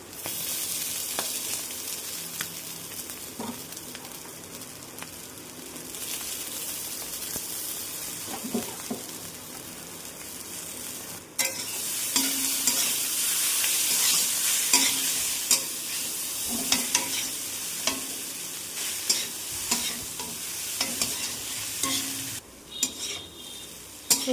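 Egg chowmein noodles are stirred and tossed in a hot pan, with a continuous sizzle of frying under scraping and clinking of a utensil against metal, loud and close with occasional sharper knocks.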